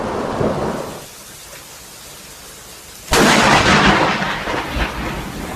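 A lightning strike hitting a tree during a thunderstorm, an abrupt deafening crack of close thunder bursting out of steady rain noise and rumbling on loudly to the end.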